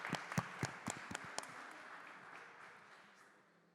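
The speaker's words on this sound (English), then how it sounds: "Let's give Fred a round of applause." Scattered audience clapping at a community tech meetup, a few sharp distinct claps in the first second and a half, then trailing off into a faint room hum.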